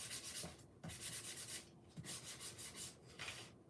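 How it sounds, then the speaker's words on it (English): Hand sanding of a surface, steady rasping strokes back and forth, about five passes with short gaps between them, faint and close with no voices. "the next step is sanding all this"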